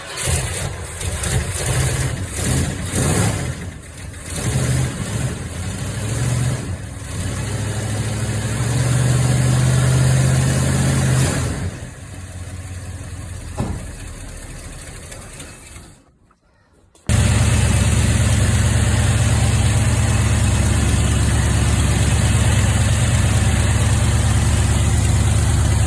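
A 1971 Ford F250 truck engine, cold after sitting for weeks, runs at a steady idle with a loud low rumble throughout, briefly dipping near the end before the idle resumes.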